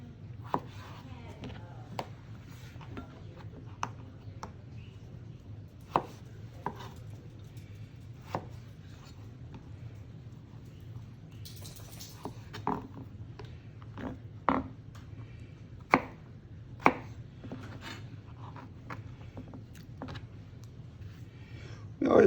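A knife dices potatoes on a cutting board, delivering a run of crisp, close chops at an uneven pace over a low background hum, with a brief pause partway through.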